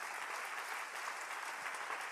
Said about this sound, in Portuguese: Um forte aplauso a Jesus.